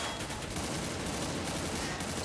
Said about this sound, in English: He's shooting at his own guy,